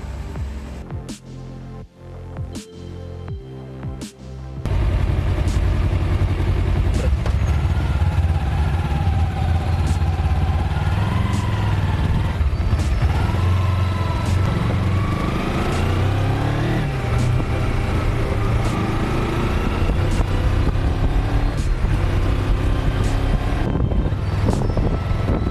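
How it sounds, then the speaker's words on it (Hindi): A Kawasaki Ninja 300 motorcycle engine idles to warm up outdoors near Triund, Dharamshala, a steady loud droning rumble that holds for about twenty seconds after a quieter opening. "बाइक हमने गर्म होने के लिए छोड़ दी है"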